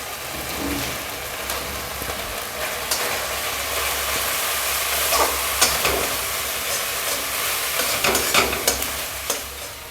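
Spices are stir-fried in a pan for a Bengali fish-head chhyachra made with katla fish head, turmeric and coriander powder, giving a steady loud sizzle with scraping and stirring clatter throughout.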